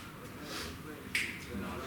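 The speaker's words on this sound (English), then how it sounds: "so you produce this clapping sound, right?" A single sharp hand clap cuts through the middle of a short stretch of someone talking. It is brief, close and crisp against the steady voice.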